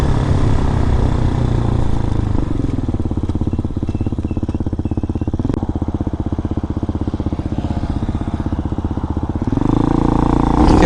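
A 2019 RPS Hawk DLX 250 motorcycle engine drones loudly and steadily while riding, with a rhythmic mechanical pulse that swells as the throttle opens near the end.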